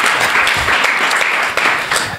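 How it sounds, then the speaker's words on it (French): Loud, close applause from an audience at a school book-donation ceremony, a dense crackle of many clapping hands that holds steady throughout. "Je voudrais que vous les applaudissiez en guise de remerciement."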